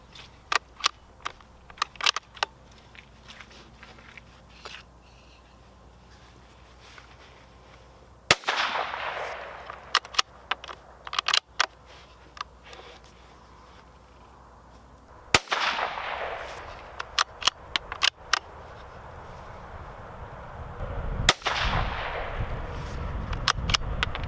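Several sharp 17 HMR rifle shots fired down range, spaced several seconds apart, each a loud crack with a rolling echo tail, with mechanical clicks and handling noises between shots.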